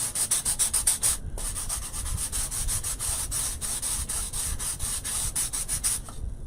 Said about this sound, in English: I'm sanding, making sure that I'm smoothing this rough section of the slices.